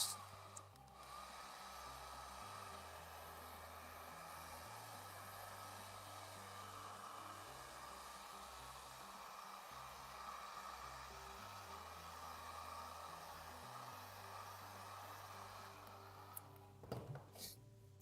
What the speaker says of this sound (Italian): Gli do proprio solo un colpetto di phon, mi scuso per il rumore che farà.